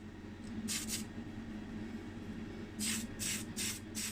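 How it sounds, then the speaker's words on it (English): Tamiya fine surface white primer sprayed from an aerosol can onto a Matchbox Ford Corsair model car casting during restoration: one short hissing burst, a pause, then four quick close sprays in succession over a low steady room hum. "So we use our Tamiya fine surface primer."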